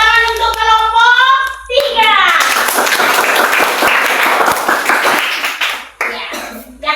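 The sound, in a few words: children applauding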